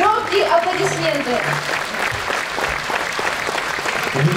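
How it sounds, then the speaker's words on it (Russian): Loud audience applause at a concert by a folk song and dance ensemble, a dense wash of clapping that starts over fading voices and tones and continues strongly to the end. "еще раз ваши громкие аплодисменты"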